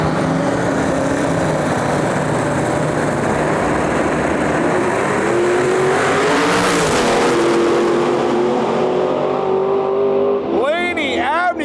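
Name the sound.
Ford Mustang LS twin turbo drag racing launch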